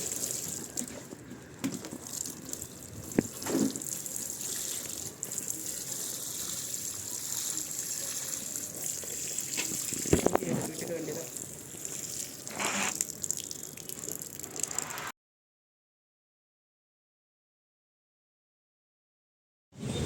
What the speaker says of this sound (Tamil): இப்போ இதை நனைக்கணும் அதனால் நம்ம மேலேயும் தண்ணி விடணும்